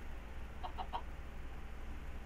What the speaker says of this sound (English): Chicken, get the hell out.